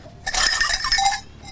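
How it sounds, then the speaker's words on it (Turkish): A sheep bell from a bell maker's workshop, a rounded clumped type hung on sheep, rings close and loud in a rapid cluster of metallic clanks lasting about a second. "Mesela şu çan, koyun çanı bu."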